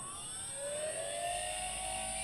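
A drone's brushless motor spins up on its ESC under a servo tester, a faint, smooth whine climbing steadily in pitch as it speeds up, with no talk.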